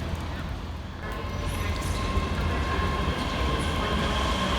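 A ScotRail train pulling away from Edinburgh Haymarket station on the far platform, a steady rumbling roll of wheels and motors with a faint high whine, moderately distant and continuous throughout.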